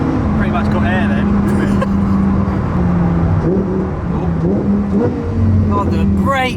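Lamborghini Huracan Performante engine droning and revving from inside the car on a muddy road, a loud sustained growl with pitch shifting up and down under frequent talk.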